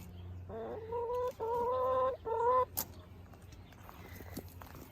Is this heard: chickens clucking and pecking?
yes